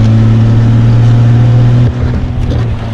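A 5.9 liter Magnum V8 in a truck, fitted with exhaust cutouts, drones loud and close with a deep, steady low rumble that eases off near the end.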